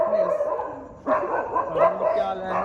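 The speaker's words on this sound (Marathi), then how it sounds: "कुत्री बित्री भुकायला लागले तिकडं आता" A dog close by gives a series of high, yelping barks and whines, one after another.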